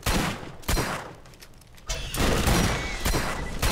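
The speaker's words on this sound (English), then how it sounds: "I love this SMG though. This SMG is awesome." Submachine gun fire in the co-op shooter Borderlands pours out in dense rapid bursts, loud and close, with a brief dip before the firing swells again and runs on continuously.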